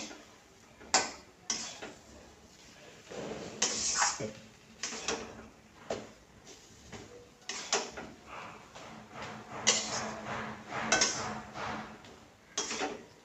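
Irregular scraping and knocking of a spoon stirring a thick potato and coriander filling for aloo chop in a bowl, close by, in short uneven strokes with no talking.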